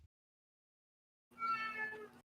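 A house cat gives a single drawn-out meow, fairly close and clear, after a stretch of near silence.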